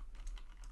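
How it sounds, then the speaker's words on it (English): Quick soft taps of typing on a computer keyboard, a short close burst of several keystrokes with a faint hum underneath. "And I'll type in here expand"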